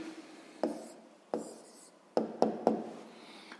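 A pen scratches out an answer to a sixth-grade maths exercise on paper in several short, separate strokes, close and quiet, with brief pauses between them.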